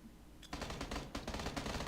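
Gunfire in PlayerUnknown's Battlegrounds rings out as a quiet lull followed by rapid, sustained bursts of automatic shots, dense and rattling at moderate distance.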